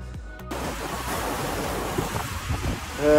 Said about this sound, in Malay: Kat sini anda boleh tengok ombak yang besar, yang kuat.